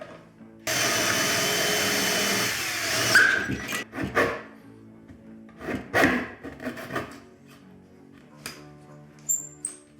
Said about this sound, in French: Je vais finir à la scie